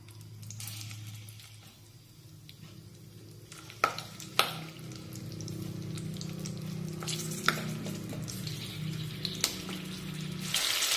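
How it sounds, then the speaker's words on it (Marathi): Green chilies stuffed with spice masala sizzle in lightly heated oil in a kadhai, a constant close frying hiss with a few sharp clicks and clatters as they are set in the pan. "आता तेल हलकसं गरम झालं की त्यामध्ये या मिरच्या घालूया।"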